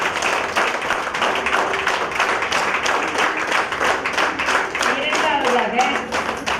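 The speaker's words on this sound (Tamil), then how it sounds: "அவருக்கு உங்களோட பயங்கரமான கரகோஷத்தை கொடுங்க" An audience at an award function in Coimbatore applauding in a continuous dense patter of clapping, with a voice speaking briefly over it toward the end.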